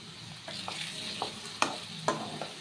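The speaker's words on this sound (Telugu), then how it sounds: "దానిలో కొంచెం ఆయిల్ వేడెక్కిన తర్వాత కొన్ని ఆనియన్స్ వేసుకుని గోల్డెన్ బ్రౌన్ కలర్ వచ్చే వరకు ఫ్రై చేసుకోవాలి." Onions fry in hot oil toward golden brown for a spicy egg fry, giving a soft steady sizzle broken by a handful of distinct spatula scrapes and taps against the pan, close but fairly quiet, with no talking.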